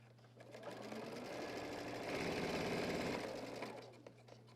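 A sewing machine stitches a seam on a men's dress shirt, giving a steady, close mechanical whir that swells louder midway and then eases, with no talk over it.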